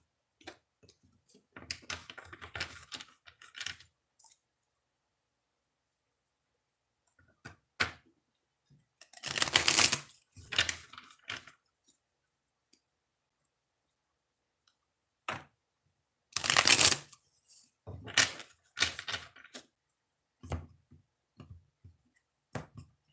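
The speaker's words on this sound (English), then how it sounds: "Do 3 shuffles for Pisces." Tarot cards being shuffled, three shuffles in all: scattered soft taps and clicks build into two sharp, loud riffling bursts a few seconds apart, with light card handling and silence between them.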